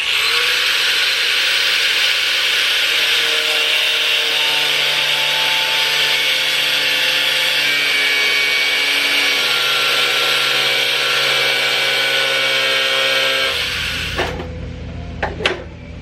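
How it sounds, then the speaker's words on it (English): An angle grinder whines loudly and steadily while cutting off a stripped fender bolt on a 2000s spec drift car, then winds down near the end with a few clanks. "now I got room to come in here with the grinder,"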